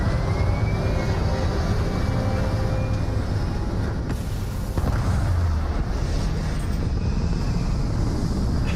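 Spaceship liftoff in Starfield on Xbox Series X: a loud, steady engine roar with deep low rumble and broadband thrust noise holding throughout, a brief dip midway, with some speech faintly mixed in.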